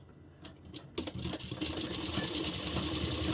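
A sewing machine stitches lace onto a blouse, starting with a few separate clicks and then settling into a steady, fast mechanical whirr up close.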